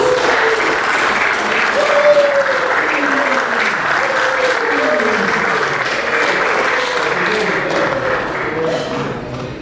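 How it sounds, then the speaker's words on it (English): A large audience at a kayaking and canoeing association event gives a guest speaker a loud, dense round of applause, sustained for about ten seconds before easing slightly, with faint voices and crowd murmur mixed in. "A big round of applause for sir,"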